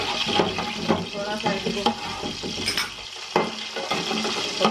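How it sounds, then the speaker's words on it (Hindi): Spices and curry leaves sizzle in about a cup of hot oil for Pakistani-style aloo gobi, a loud crackling fry broken by repeated stirring scrapes, with someone speaking briefly over it. "तो अब सबसे पहले ये मसाले डालेंगे, कड़ी पत्ता डालेंगे"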